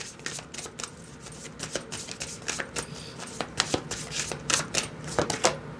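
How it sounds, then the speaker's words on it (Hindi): Oracle cards shuffled by hand for a reading, a close run of quick papery riffles and soft slaps that grow denser and louder toward the end, with no talking over them. "मैं आपके लिए एक ऑरेकल कार्ड भी लेना चाहूँगी"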